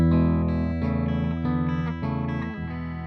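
A PRS Private Stock Super Eagle II guitar played through an engaged preamp, sustained chords ringing thick and slightly overdriven with a few rhythmic restrikes, loud and close with no talking.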